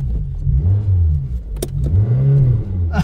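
A Peugeot 205 engine revving hard as it starts, a close, loud low rumble rising and falling in two strong surges with a couple of brief sharp clicks in between; no speech.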